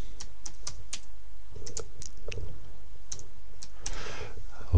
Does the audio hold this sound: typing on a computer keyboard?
yes